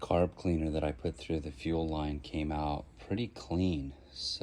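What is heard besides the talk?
No everyday noise stands out behind the speech.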